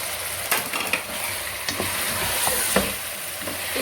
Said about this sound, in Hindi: इसको भी फ्राई करेंगे।